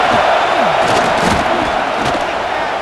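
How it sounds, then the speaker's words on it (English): Stadium crowd noise in the College Football 26 video game at a UCLA Bruins versus USC Trojans game, a loud sustained roar with scattered shouts and cheers throughout. "Listen to this crowd noise"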